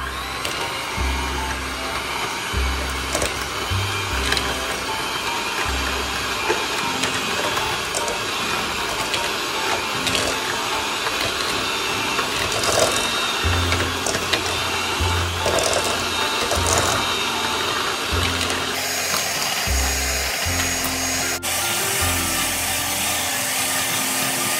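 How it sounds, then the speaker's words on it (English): Hand mixer creaming butter and sugar for a Jamaican Christmas fruit cake, a continuous close motor drone with a grinding, uneven texture that shifts in pitch near the end, with no talking. "I'm gonna be using a hand mixer today"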